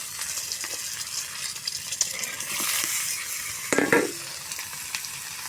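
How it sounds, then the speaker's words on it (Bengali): Eggs marinated in turmeric and salt fry in a pan, a constant crackling sizzle with stirring scrapes and a sharp metallic clink near the end. "ডিমগুলো ভালো করে ভেজে নেব।"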